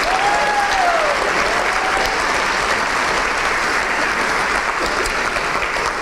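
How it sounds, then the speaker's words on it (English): A large audience at a volunteer awards ceremony gives sustained, even applause, a dense wash of clapping that holds steady throughout. "Big round of applause."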